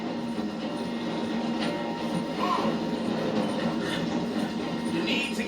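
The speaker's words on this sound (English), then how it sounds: "The train's slowing down to go through the station." A passenger train in the video game Red Dead Redemption 2, slowing as it passes through a station, gives a steady loud rolling rumble with faint rattles and squeaks throughout.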